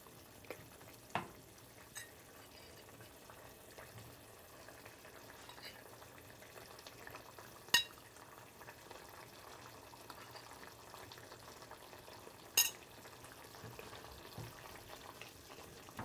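Ethiopian flaxseed (telba) stew boiling in a pot on the stove makes a faint, steady bubbling hiss, broken by a few sharp little clicks and pops.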